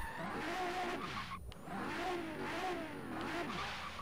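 A Quartz Regalia 723 car engine in a racing video game revs and whines up and down in repeated surges, steady and loud, with tires faintly squealing.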